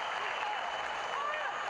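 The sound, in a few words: football crowd cheering for home side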